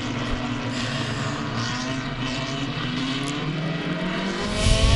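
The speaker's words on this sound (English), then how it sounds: "They go by so fast, I can't get their number." Race cars at a New England racing event roar past fast in a steady, loud stream of engine noise, with a louder car closing in near the end.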